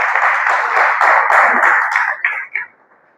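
A church congregation applauding, a dense burst of clapping from many hands that holds for about two seconds, then thins to a few scattered claps and fades.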